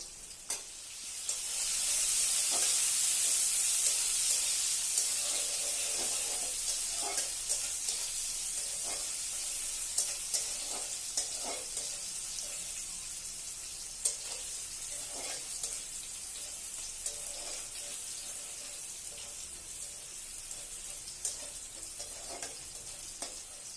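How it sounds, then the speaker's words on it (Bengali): Ginger-garlic paste, onion and green chilli sizzle steadily in a pan for a fish curry, with a loud burst of frying near the start settling into a continuous hiss, broken by repeated scraping stirs of a spoon. "আদা রসুন বাটা, পেঁয়াজ, কাঁচামরিচ এগুলো একসাথে একটু ভালো করে নাড়াচাড়া করে নিব"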